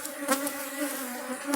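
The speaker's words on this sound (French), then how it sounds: "On met toutes les abeilles qu'on peut dans la nouvelle ruche." Honey bees buzz steadily and close while being moved into a new hive, a dense insect drone with a few brief louder swells as individual bees pass near.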